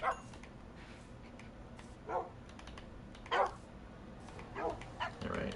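Tamed dogs in the Minecraft video game bark in short, separate yaps, roughly five barks spread over a few seconds at moderate loudness against a quiet game background.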